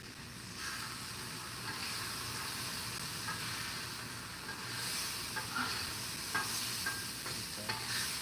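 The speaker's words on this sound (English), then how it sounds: "I'm going to throw the fish on the sizzle." Fish and crab sizzle steadily on a hot, oiled Blackstone griddle, a continuous close frying hiss with small crackles and pops that swell slightly toward the end.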